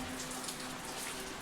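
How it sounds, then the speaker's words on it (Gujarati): Storm rain falls steadily outside a family home, a constant, even hiss of drops hitting surfaces at moderate loudness. "અને વરસાદ ભાઈ ચાલુ થઈ ગયો છે."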